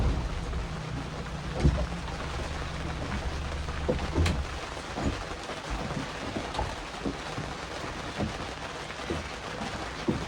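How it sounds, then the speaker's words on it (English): Heavy rain pours down steadily on a small fishing boat in a constant wash of noise, with a few low knocks and bumps close by. "It is raining hard now."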